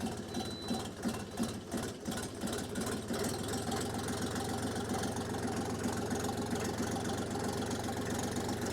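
A DTZ 5354 HPX mini tractor engine runs in first gear with the reverser set forward, a steady low mechanical chugging with a constant hum, close and continuous throughout.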